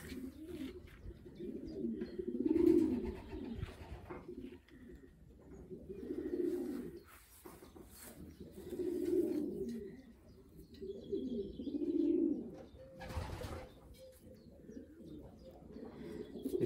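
Racing pigeons cooing in a loft, soft low coos repeating every few seconds in rhythmic bursts, close by and fairly quiet, with a brief rustle near the end.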